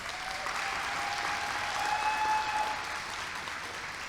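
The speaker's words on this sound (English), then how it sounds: "Let's give these girls one more big round of applause." An audience applauds contestants at a Muscogee (Creek) Nation scholarship pageant, with steady, moderately loud crowd clapping sustained over several seconds and a faint tonal line running underneath.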